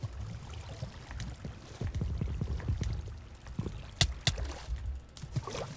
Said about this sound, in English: I'm using the other water stream.